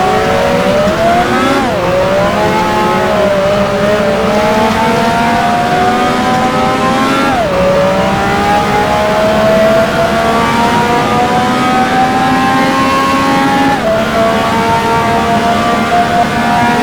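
A Formula 1 race car from the 1980 French Grand Prix in F1 Challenge pulls out of the pit lane, its loud, close engine screaming steadily upward through the gears with brief dips at each shift.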